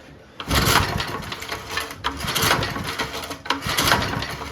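Junkyard lawnmower engine running rough on brake cleaner, sputtering and chugging unevenly with loud irregular bursts and backfiring puffs from a struggling intake valve, close up and without talk.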